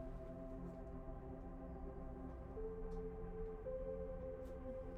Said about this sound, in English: Oh, you heard the sirens?